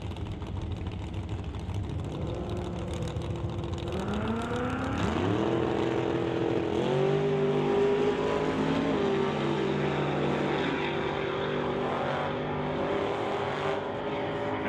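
An F100 truck and a Mustang drag race to the quarter mile, their engines a loud, continuous roar that climbs in pitch through repeated sweeps as they accelerate and stays intense throughout.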